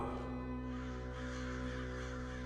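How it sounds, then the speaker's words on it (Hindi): Crows caw loudly and continuously over a steady, droning background, the harsh calls close and alone without any talking. "ये जो कौवे हमारे ऊपर मंडराते रहे हैं"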